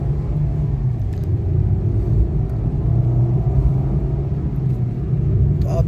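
A Maruti Dzire or Swift automatic running on CNG accelerates with a steady, loud low engine rumble heard from inside the cabin, droning evenly without clear gear-shift breaks.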